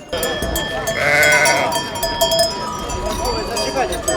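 A flock of sheep being driven to mountain pasture in the Tiachiv area during a festive send-off bleats loudly and steadily, with cowbells clanking and a busy crowd murmuring in the background throughout.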